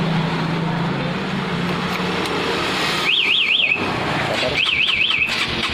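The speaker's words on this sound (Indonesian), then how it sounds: "alarm ini tetap akan berbunyi keras dan motor tidak bisa dihidupkan sama sekali" A Honda CBR150 motorcycle's aftermarket alarm sounds outdoors with traffic rumbling nearby: two short bursts of rapidly warbling electronic siren, each about a second long, separated by a brief gap.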